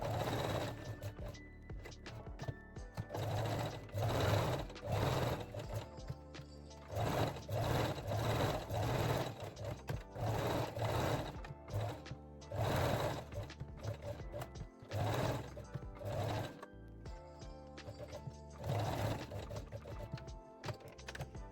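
A sewing machine straight-stitching lace onto a bralette runs in repeated close bursts of rapid mechanical whirring and clatter, with short pauses between runs.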